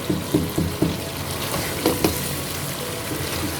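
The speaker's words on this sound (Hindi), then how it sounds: "देखिए, चिकन हमारा भून गया है बहुत अच्छे तरीके से।" Chicken browning in a pot for rajma chicken, a steady close sizzle of frying with a few light clinks and stirring scrapes near the start, no voices.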